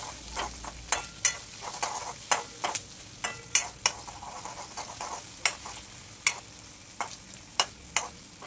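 Tomatoes sizzle in a hot pan for chow mein as a spoon stirs them, with sharp scraping clicks every half second or so over a steady frying hiss, close up and moderately quiet.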